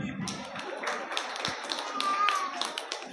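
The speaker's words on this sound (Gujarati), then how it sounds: "બધા માટે સૌ આપણે તાળી વગાડીશું ફરીથી" An audience of mothers and pregnant women at an anganwadi service programme claps together in a brief, dense burst of applause, with talking over it.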